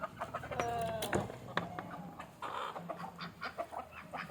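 Native country hens clucking close by in a coop in short, irregular bursts, with a few higher squawks and chirpy calls mixed in, no talking.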